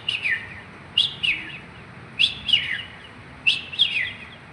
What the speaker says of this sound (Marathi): रेड विस्कर्ड बुलबुल असं तर इंग्लिशमध्ये नाव आहे.